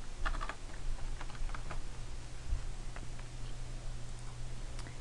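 Fingers tap a computer keyboard to type a search, a quick run of light clicks at the start followed by scattered single keystrokes over a steady low hum.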